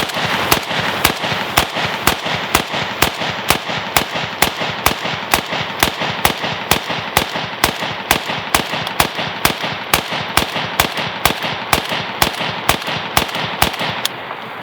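A PSA AK103 rifle fires a full magazine during a cold sand test, a long steady string of sharp, evenly spaced shots close by that runs without a break for about fourteen seconds.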